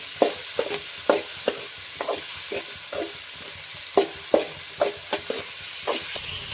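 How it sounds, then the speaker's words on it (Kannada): Tomato for bisi bele bath fries in a pan, a soft steady sizzle broken by a regular series of scraping stirs, close by and with no talk. "ಟಮಾಟೊ ಚೆನ್ನಾಗಿ ಫ್ರೈ ಆಗಿದೆ"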